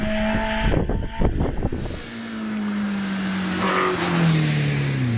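A Peugeot 205 GTI racing car powers out of Farmhouse Bend at the Harewood hillclimb, with a burst of rough engine bangs and pops before a loud, rising engine note pulls away, no talk over it.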